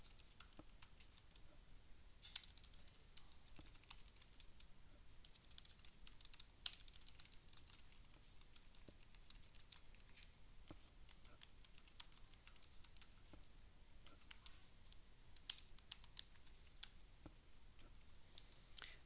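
Rapid, steady keystrokes on a computer keyboard while writing code, a faint stream of light clicks and taps with no voices.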